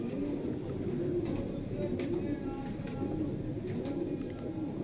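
A flock of breeder pigeons at a Faisalabad loft coos continuously in a low, rolling murmur, many birds overlapping close by with a few sharper flutters and clicks above the drone.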